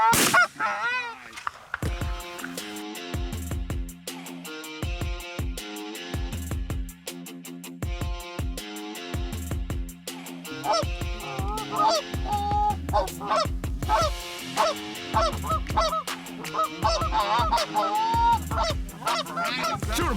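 Geese honk loudly and repeatedly in overlapping calls, near and continuous, during an opening-day goose hunt, with a few louder bursts layered among the flock's steady chatter.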